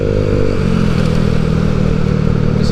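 A 2013 Yamaha Xeon RC scooter engine, suspected of losing power, runs loud and close with a steady mid-pitched drone and a faint rattle, without any speech.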